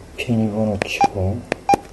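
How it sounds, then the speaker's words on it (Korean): Short electronic beeps from a phone keypad as a password is entered, three or four separate presses, interspersed with a person talking nearby. "비밀번호 치고"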